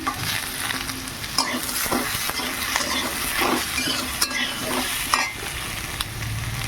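Turmeric and green chillies fry with brinjal in oil in a pan, a continuous close sizzle broken by spatula scrapes and stirring clatter, with no talk.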